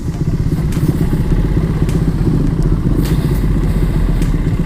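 A Raider 150 motorcycle engine fitted with an APIDO CDI runs steadily at close range, a loud, continuous rattling putter with faint clatter on top.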